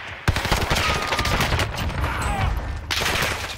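Heavy gunfire in Warzone, dense overlapping bursts of automatic shots at moderate loudness that run continuously with a short dip in the middle before resuming.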